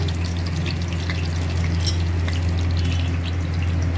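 Cumin and other spices fry in hot oil, a steady, dense crackling sizzle held at an even level over a low background hum.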